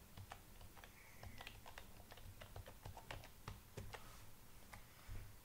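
Fingers tap out a password on a computer keyboard, a steady stream of quiet, quick clicks with brief pauses, close and low-level under a faint hum.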